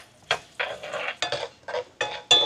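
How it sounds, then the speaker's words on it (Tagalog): Carrot pieces being stirred and sautéed in a pan for corned beef mechado, a series of short scraping, sizzling bursts in an uneven rhythm, close and fairly loud with no talk. "Uunahin lang muna natin gisa yung ating carrot."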